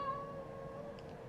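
Household cat meows once, a drawn-out, moderately loud complaint against a quiet room background.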